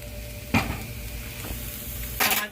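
Garlic parmesan butter sizzling in a pan, a soft steady hiss punctuated by a couple of sharp utensil scrapes and clinks against the pan.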